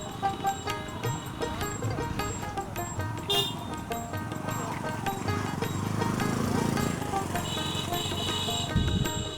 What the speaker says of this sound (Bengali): এই দেখুন ঘোড়ার গাড়ি।